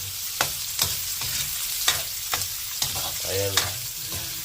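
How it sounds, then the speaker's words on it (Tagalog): Garlic, ginger and onion sauté in a hot pan, a continuous sizzle punctuated by regular scraping strokes of a spatula, close and fairly loud, with one brief spoken word. "Magigisa na ng bawang, luya, saka sibuyas."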